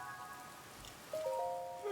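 Soft, steady rain falls in The Legend of Zelda: Tears of the Kingdom, a faint wash of patter beneath brief chiming musical tones.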